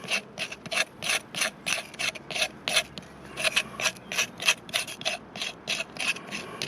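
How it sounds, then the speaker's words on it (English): Rhythmic rasping strokes of a fixed-blade knife scraped sideways along a wooden skewer, about twenty close, even back-and-forth scrapes in quick succession with no talking. "I'm just going to do a straight blade scrape sideways on this to clean up this skewer I've been using here"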